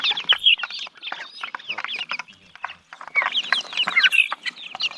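Hen and rooster clucking close by in woodland, busy overlapping bursts of clucks and squawks in rapid irregular rhythm, with a brief lull mid-way before the calls pick up again.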